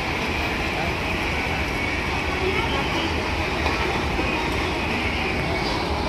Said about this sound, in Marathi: आणि ट्रेन बघताय तुम्ही, ही बघा ट्रेन बघताय।